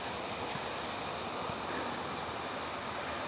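Talon ng Leon waterfall in Barangay Lucsuhin, Silang, Cavite, a faint, constant broadband rush of falling water with no voices.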